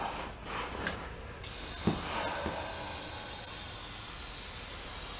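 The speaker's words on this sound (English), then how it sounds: "if you use the hose, it seems to be spraying a little better than it was when I was in the wheel arches" Undercoating spray from a hose gun coating the underbody of a classic car at home, a steady loud airy hiss that starts after a few brief bursts and then runs continuously, close to the microphone.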